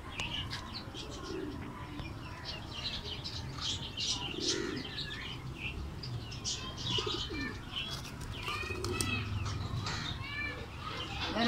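Pigeons coo repeatedly in soft, low rolling calls, with occasional chirps and a brief flutter of wings, all at close range against steady background noise.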